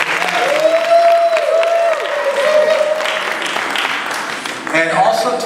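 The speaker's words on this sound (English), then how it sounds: "Let's give him a big round of applause for everything he did." Applause from an audience at a Kerala Association of Las Vegas Onam celebration, with clapping mixed under talking and tonal voices, fairly close and steady with a brief dip before picking up again.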